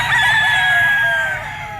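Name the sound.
bull stag gamecock crowing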